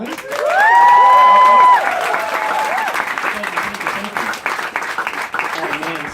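An audience at a comedy open mic night in Berlin claps and cheers for the host, a dense, loud burst of applause that tapers off while a voice speaks over it.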